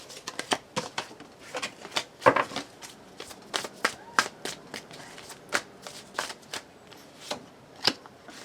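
Osho Zen tarot cards are shuffled and drawn in a steady run of sharp, papery riffles and flicks, close and distinct, with brief pauses between bursts.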